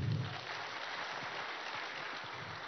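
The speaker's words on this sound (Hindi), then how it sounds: "एक बार जोरदार तालियां और बजा दीजिए।" Applause from an audience at a Hindustan Shikhar Samagam 2018 conference session in Lucknow, a steady dense wash of clapping across the whole stretch with no voices over it.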